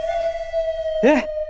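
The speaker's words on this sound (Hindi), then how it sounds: "अबे मंदिर की घंटी नहीं, ये दरवाजे की घंटी" An electronic doorbell sounds a steady, sustained tone, and a voice briefly cuts in near the end.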